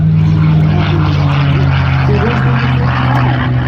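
A propeller airplane at the Reno Air Races drones loudly and steadily overhead, its engine roaring close by without letting up.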